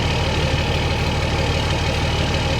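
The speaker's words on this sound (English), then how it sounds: "I like to hear a diesel engine," A diesel truck engine idles steadily nearby, a constant low rumble with a faint mechanical knock, unbroken and moderately loud with no talking.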